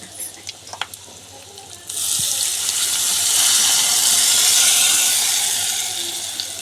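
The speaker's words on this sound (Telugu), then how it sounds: "పులుసు అయితే ఇలా వేస్తుందండి" Tomato curry with prawns and crabs poured into a hot pot, starting with a few faint clinks and then a sudden loud, steady sizzling hiss that swells and holds, with no voices.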